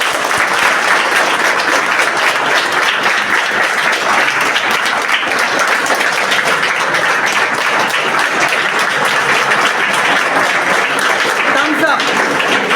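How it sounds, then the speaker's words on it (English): Loud, sustained applause from a classroom audience at the end of a teaching session, dense steady clapping filling the whole stretch without a break. "let me see it in your big round of applause"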